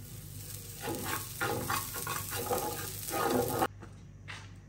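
A mongra paratha cooks with butter on a hot griddle. A steady sizzle and frying crackle surges in bursts for several seconds, then drops to a quieter hiss, with no talking.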